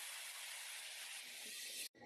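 A steady, loud hiss of steam escaping from under the lid of a pot of corn curry cooking on low gas, continuous for about two seconds before it cuts off abruptly.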